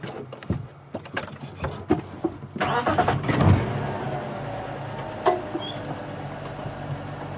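A safari game-drive vehicle's engine starting with sputtering cranks, then revving up loudly and settling into a steady idle, close by with a few knocks and clunks.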